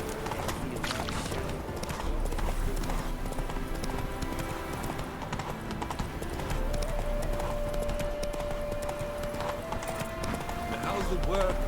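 Hoofbeats of Roach, a horse in The Witcher 3, in a steady clip-clop gallop running throughout under continuous talking, with a background tone.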